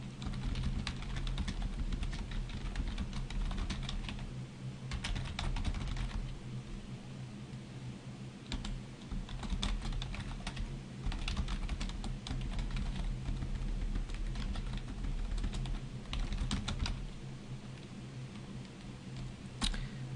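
Someone typing a script on a computer keyboard, bursts of rapid close key clicks separated by short pauses over a low steady background hum.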